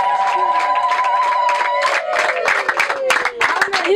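Congregation in a prayer room clapping and cheering, loud crowd noise with shouts and a sustained voice over bursts of clapping.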